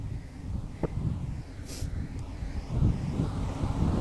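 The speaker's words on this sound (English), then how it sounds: "it is a little bit windy" Steady wind rumbling and buffeting against the microphone on an outdoor autumn nature walk, a low continuous roar with gusts swelling louder toward the end.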